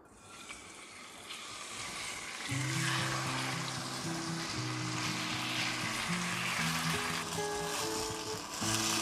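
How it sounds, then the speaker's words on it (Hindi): Marinated chicken fries in about three tablespoons of oil in a pan for chicken chow mein, with a steady hiss of sizzling close by and background music with a tune over it. "उसमें तकरीबन 3 टेबलस्पून ऑयल डालेंगे। इसमें मैंने जो मैरिनेट किया हुआ था चिकन वो ऐड करूंगी।"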